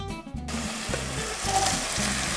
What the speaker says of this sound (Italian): Vedete come frigge già?